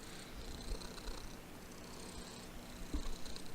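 A domestic cat purrs close up, a soft continuous rumbling throb that stays steady and low in level throughout, with no other sounds.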